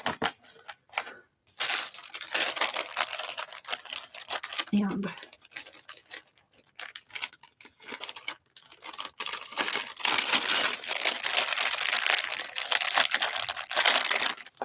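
Sheets of paper are handled and crinkled while working on a small box, with bursts of rustling and crumpling sound coming in irregular waves over about fifteen seconds, and a voice speaking briefly in between.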